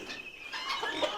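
Farm chickens clucking and chattering at fairly close range, soft overlapping calls that grow a little louder toward the end.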